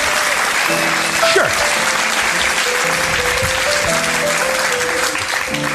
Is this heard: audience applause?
yes